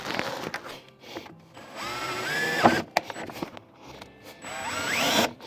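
A power drill drives screws during a fan install on a trailer, with short whirring bursts that rise in pitch, broken by pauses and light handling clatter, heard close and fairly quiet.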